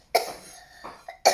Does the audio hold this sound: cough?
yes